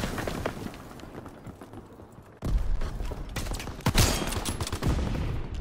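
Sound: battlefield gunfire in the video game WAR

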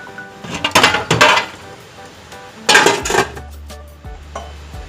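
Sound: opening the lid of a steamer pot

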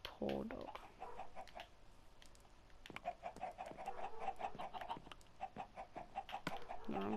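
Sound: chickens clucking in Minecraft video game

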